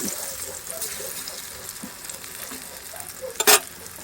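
Eggplant slices fry in a pan with a continuous soft sizzle and a brief sharp scrape or clatter near the end.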